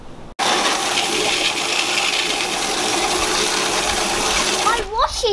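Water gushing steadily onto a dirty fabric vehicle recovery strap being washed, a loud continuous spray that starts abruptly after a brief silence and ends with a few squeaky sounds.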